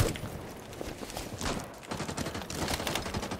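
Gunfire in the video game Rainbow Six Siege: bursts of rapid shots crackle in irregular clusters at moderate distance, mixed with scuffling movement and no talk.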